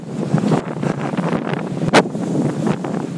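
A strong headwind buffets a Rylo 360 camera's microphone, roaring and rumbling continuously for a few seconds, with gusty surges and one sharp burst near the middle.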